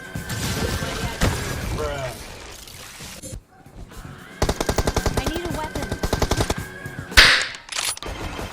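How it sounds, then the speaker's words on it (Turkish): Video game gunfire from the strongest weapon in the game, loud rapid automatic bursts with shattering hits, a brief pause in the middle, then a long continuous stream of shots and a sharp crash near the end. "Şimdi oyundaki en güçlü silah oynayacağım."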